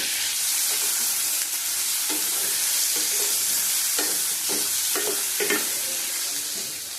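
Chicken pieces fry in a pan for atta momo, a steady close sizzle with scraping stir strokes throughout, loud and continuous with no talk.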